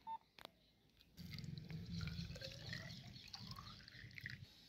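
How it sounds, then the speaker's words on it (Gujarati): About 200 ml of water poured into a cylinder set in soil for a classroom percolation experiment, a low gurgling splash that starts after a second and continues softly and close, with faint clicks around it. "હવે આ પાણી આપણે આ નળાકારની અંદર નાખીશું"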